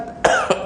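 A man coughs in a quick, close series of three harsh bursts, loud and isolated.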